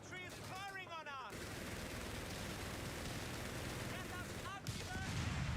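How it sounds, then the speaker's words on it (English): Rifle fire from infantry in Company of Heroes, a continuous rattle of distant shots under battle noise, with voices talking over the start and end. "Infantry is firing on us."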